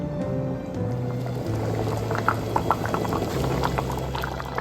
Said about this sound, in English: The stock we just made, it's starting to simmer.